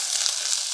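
Onion and green onion stir-frying in sesame oil in a hot pot, a brief bright hissing sizzle, close and steady, no talk.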